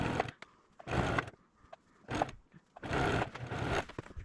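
A sewing machine stitches patchwork binding in several short bursts of whirring, separated by brief pauses, close and fairly quiet with no talking.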